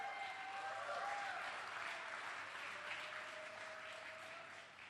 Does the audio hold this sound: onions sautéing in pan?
no